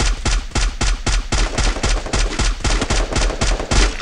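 Rapid automatic gunfire from a weapon in the battle royale game Free Fire, a loud, close burst of evenly spaced shots repeating about three times a second without pause.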